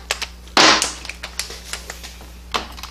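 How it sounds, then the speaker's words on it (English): Taking a Torx bolt out of the channel plate on a 4T65E automatic transmission during a teardown: a loud burst of metallic tool rattle, then a run of short, sharp ratchet-like clicks and taps, close up, with no talking. "Let's go ahead and take the Torx out first."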